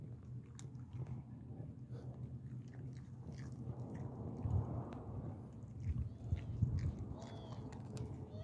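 Roadrunners crunch and chew food up close. The steady, faint gnawing carries soft crackly bites and a few louder crunches, with no talk over it.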